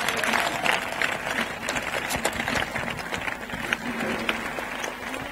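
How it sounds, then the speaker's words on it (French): Congregation clapping for Jesus at a New Year's Eve worship vigil, an uneven patter of many hands at moderate volume with some voices mixed in. "Let us clap for Jesus."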